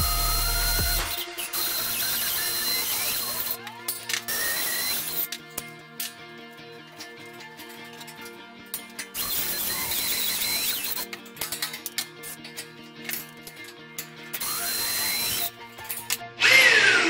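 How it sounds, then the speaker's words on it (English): A power drill runs a bit through a guide clamped to a car chassis during transmission crossmember work. It whines in repeated bursts of boring, some squealing as the bit bites the metal, with brief pauses between holes. "I should be able to clamp this onto my chassis and then run the drill bit through it"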